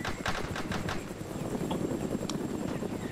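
Rapid bursts of gunfire from a walled compound in the ArmA 3 military game, several sharp cracks early on, then a steady rumble with scattered distant shots.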